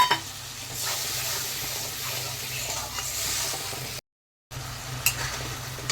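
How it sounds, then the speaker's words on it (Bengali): Spice paste with salt and turmeric for a catfish (magur) curry fries in a pan: steady, close sizzling with stirring scrapes, a brief silent break near the end, then the sizzle resumes. "মশলাটা একটু কষিয়ে নিয়ে"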